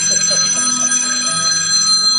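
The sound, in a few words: telephone ringing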